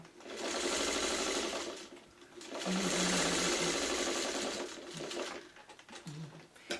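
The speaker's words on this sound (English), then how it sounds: "go really like one stitch over that seam with the needle down to take the next seam" Sewing machine stitching across a fabric seam, running in two long steady bursts with a short pause between them and a fainter, slower stretch near the end, close and fairly loud.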